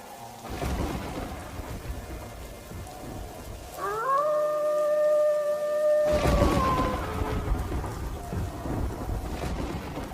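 Heavy rain with thunder, a dense, steady roar of downpour with rumbling bursts, and a long, wavering howl rising over the storm midway through.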